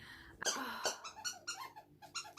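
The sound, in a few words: dog's squeaky toy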